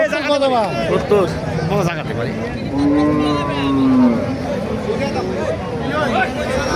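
Beef cattle at a livestock sale in Thakurgaon, Bangladesh, let out several loud, close moos, one long and sustained, over the chatter of a crowd and people talking nearby.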